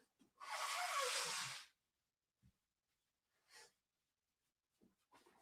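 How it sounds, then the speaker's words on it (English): A person blows their nose once with a loud, sustained, breathy honk lasting about a second, close to the microphone, followed by a few faint sniffs and small rustles in an otherwise quiet room. "I'm blowing my nose."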